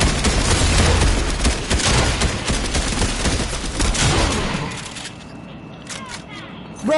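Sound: gunfire in Fortnite video game

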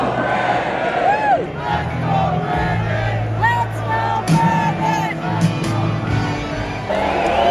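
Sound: rally crowd cheering and shouting wildly

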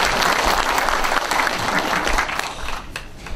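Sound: audience applauding

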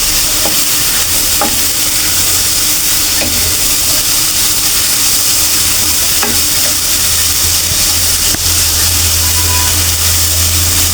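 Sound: stirring and frying carrots for halwa

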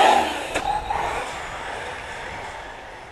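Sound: Team Associated RC8TE RC car running on 5S lipo

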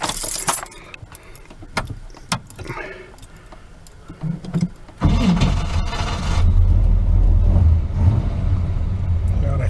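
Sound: Chevrolet S10 truck engine starting and idling

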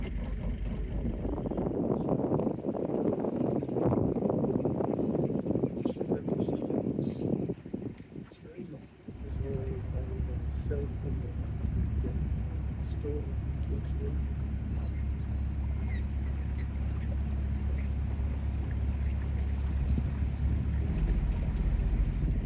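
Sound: ferry boat underway in wind

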